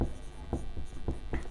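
Pen scratching across paper while a 10th-grade math problem on circles is worked out, a few quick strokes repeating close to the mic over a low steady hum.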